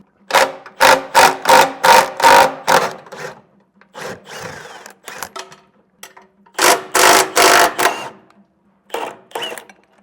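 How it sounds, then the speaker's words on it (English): A 15/16 socket and wrench loosen bolts on a fifth wheel hitch during a gooseneck conversion, making loud, close bursts of rapid ratcheting clicks in quick groups with short pauses between. No one speaks. "I'm just using a 15/16 socket and wrench to get these loosened up"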